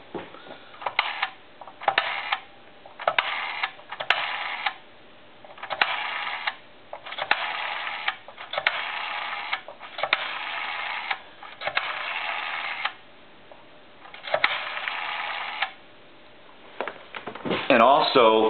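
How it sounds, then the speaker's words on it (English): A repaired payphone with a cleaned and oiled rotary dial runs through a series of numbers, each whirring return of the dial heard up close with brief clicks and short gaps between digits, followed by a warbling tone at the end. "We're going to go ahead and dial some numbers now."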